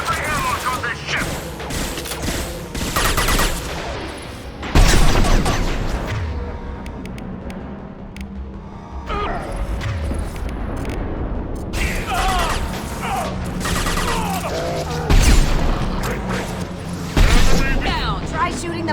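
Mass Effect 2 firefight with rapid gunfire bursts, mechanical clatter and occasional heavy booms, loud and continuous, with voices talking over the action.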